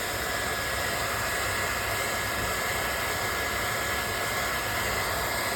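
A hair dryer blows steadily at close range over freshly glued material on a wooden cutting board, a constant airy whoosh with a high whine running the whole time and no voices.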